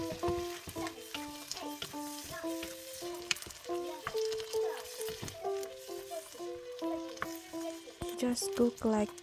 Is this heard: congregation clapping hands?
no